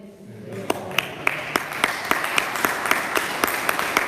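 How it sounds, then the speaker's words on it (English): A church congregation breaks into applause, starting faintly and building into steady clapping with sharp individual claps rising above it, fairly close. "You know why they're clapping?"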